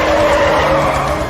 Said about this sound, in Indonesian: mobil Angela yang melaju cepat itu pun menjadi tergelincir